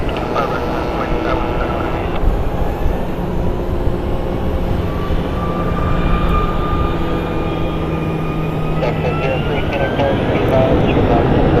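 An American Airlines jet bound for Atlanta on its takeoff roll on runway 25 right at Phoenix Sky Harbor, a loud continuous engine roar with rising whine tones, heard with radio chatter.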